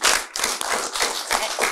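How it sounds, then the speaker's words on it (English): A small group claps hands in a round of applause at a discussion event, brisk close claps in uneven bursts with brief dips between them. "let's do a round of applause for that."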